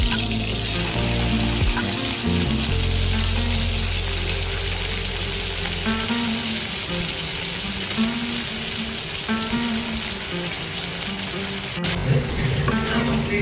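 Onion hits a hot pan for Agri-style dried-fish curry and fries with a steady, close, hissing sizzle that continues throughout, with a few soft clatters.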